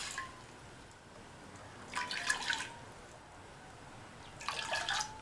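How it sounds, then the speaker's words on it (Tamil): Water is poured into a cooking pot while making Tamil payasam. Two short splashing pours are heard faintly in a quiet room, a second apart, with no talking. "இந்த பாத்திரத்தில் 1/2 கப் தண்ணி சேர்த்துக்கலாம்."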